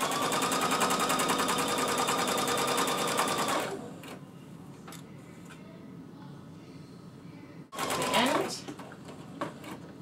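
A sewing machine stitches chiffon fabric onto a T-shirt, first in a loud, steady mechanical whir, then stopping, then a second brief burst of stitching, close up with a voice speaking.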